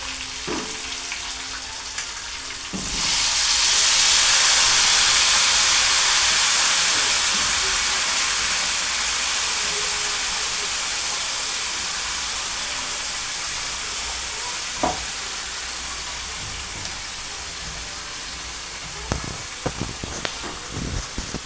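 Tamarind gravy poured over browned, frying fish pieces bursts into a loud, broad hiss and sizzle that slowly fades into a simmering bubble, with a few clinks of utensils and no talking.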